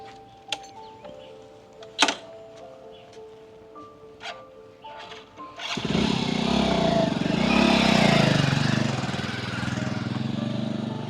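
A motorcycle engine arrives abruptly after a quiet stretch of scattered ticks and knocks, then holds a loud, rough, steady rumble close by until the end.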